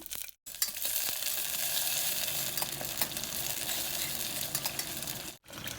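Mint leaves and green chillies fry in a few spoons of oil in a pressure cooker with a bay leaf and cardamom, giving a loud, continuous crackling sizzle. It is interrupted by two brief silent gaps.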